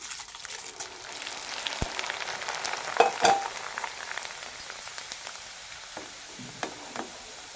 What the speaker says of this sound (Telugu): ఇప్పుడు మక్క పొట్టు వేయించుకుందాం